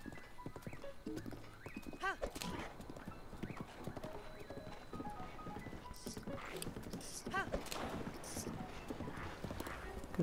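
A horse's hooves clip-clopping steadily in Zelda: Breath of the Wild, a continuous trotting rhythm with a neigh or two, while someone talks over the top.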